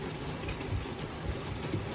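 Water pours steadily into a cooking pot of vegetable biryani with mint, a continuous close rushing and splashing that lasts throughout.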